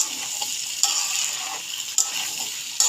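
Taro and a shrimp spice mix sauté in oil with a steady close sizzle, broken by a few sharp stirring scrapes against the pan, and no voices.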